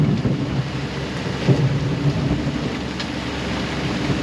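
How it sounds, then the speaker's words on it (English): Dense rain pours steadily during a storm at sea off the Indonesian coast, with low rumbles of thunder rolling under the constant hiss, loud and unbroken. "You can't see anything though because the rain's so dense."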